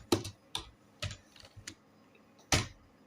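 Keystrokes on a computer keyboard while entering data in Tally accounting software, about six distinct clacks in an uneven rhythm with a louder final press, close to the mic and without talk.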